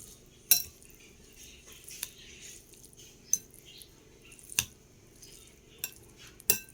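Leftover dishes mixed together with a utensil: soft scraping and a few sharp clinks of spoon on a bowl or plate, spaced irregularly, close and quiet with no talking.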